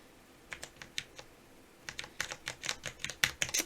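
Keystrokes on a Cooler Master SK630 computer keyboard, sparse and scattered at first, then quicker and louder in bursts of clacky taps, close up with no talk.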